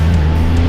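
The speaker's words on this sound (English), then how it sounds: "It's the second car I passed." Steady, loud engine drone from inside a car climbing a steep, winding stretch of Route 66 near Sneedville while overtaking another car, a low hum that stays level throughout.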